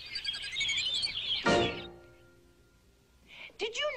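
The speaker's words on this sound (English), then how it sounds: "Birds." Small birds chirp and tweet in quick bright bursts close up, mixed with a cartoon-style voice performance, then a brief pause before a few more sharp calls.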